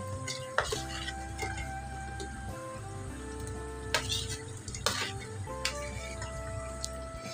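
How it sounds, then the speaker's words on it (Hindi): Meat frying in a pot with garlic and salt, a steady low sizzle running under clinks of a utensil stirring against the metal, with a few sharper knocks and scrapes, no talk. "अभी ये सब ये भुन रहा है गोश्त इसके अंदर, लहसुन वगैरह डाल के, नमक डाल के इसकी भुनाई हो रही है।"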